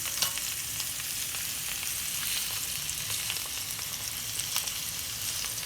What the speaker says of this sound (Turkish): Köftelerimi çevireceğim şimdi. Gayet güzel kızarmış.